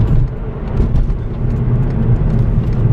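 A VW MK5 with a cold air intake drones loudly and close, a steady rough low engine roar under throttle that stays even with slight swells, with no talk over it.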